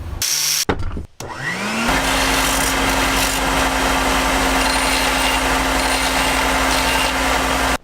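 An axe bevel is ground to remove pits, with a power grinder spinning up after a few sharp clicks, then a loud, steady whine and gritty abrasive rasp holding on without pause.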